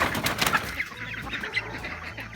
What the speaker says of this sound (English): all chickens come out to free range now